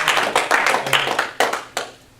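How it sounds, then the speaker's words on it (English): An audience claps for a speaker stepping forward at a training event, a short burst of close, fairly loud hand claps that thins out and fades within a couple of seconds. "if you can give him a round of applause as he comes forward"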